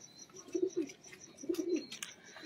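Pigeons, including teddy and red-eyed males, coo softly in a low, rolling burble, two short phrases close by against a faint background.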